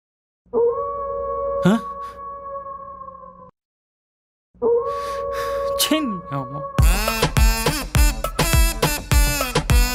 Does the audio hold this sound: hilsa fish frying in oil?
no